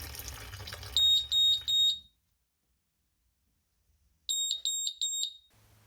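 A water leak alarm under a kitchen sink beeps in two bursts of three shrill, piercing tones, loud and close, over running water, with a pause of silence between the bursts.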